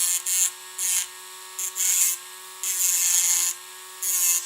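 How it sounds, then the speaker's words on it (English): A rotary sanding bit grinds against a small toy piece in short bursts, close and high-pitched whirring over a steady motor hum, with brief pauses between each pass. "take a sanding bit. And since you can see this little piece that's hanging out right here, we'll sand this down"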